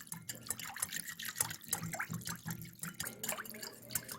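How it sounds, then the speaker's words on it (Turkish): Dry yeast and three tablespoons of cooking oil stirred together in a bowl for börek dough, with soft, continuous liquid sloshing and small drip-like clinks close by. "Maya eriyinceye kadar karıştıralım."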